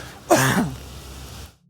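A man gives one harsh, throaty cough up close, trailing off into quiet.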